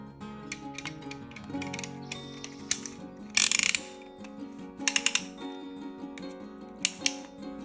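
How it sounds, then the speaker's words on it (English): A piston ring compressor being tightened on an engine piston, giving quiet ratcheting clicks and metallic mechanism sounds, with a few sharper clacks near the end. "Put on our ring compressor, tighten it up."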